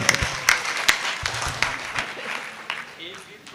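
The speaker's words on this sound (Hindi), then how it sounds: "एक बार जोरदार तालियां बजाकर" Audience applause at a Hindi poetry gathering, with sharp individual claps standing out early over a broad, moderate wash of clapping that fades gradually, while a voice speaks over it.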